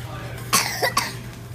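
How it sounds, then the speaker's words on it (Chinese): A small child of about three coughs a few times, one sharp burst followed by a shorter second cough, fairly close, over a low steady hum. "那么激动，你看，激动到自己咳嗽。"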